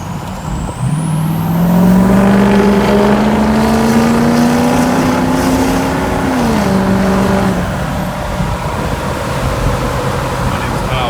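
Ford 6.0 Powerstroke diesel in an Excursion pulls hard through the gears, a loud rising engine roar that climbs, drops at a shift near six seconds and carries on more quietly, with no talking over it.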